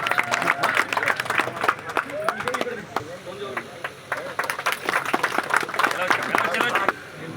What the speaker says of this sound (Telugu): దయచేసి చప్పట్లు కొట్టండి